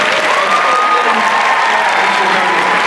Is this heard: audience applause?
yes